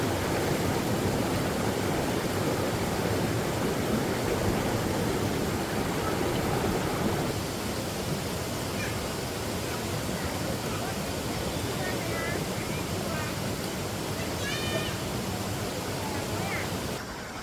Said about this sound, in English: Just beneath the waterfall.